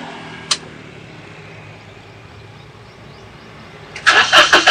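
After a quiet stretch broken by one sharp click, a used Daihatsu Ayla 1000 cc car's starter cranks loudly at the end and the engine catches.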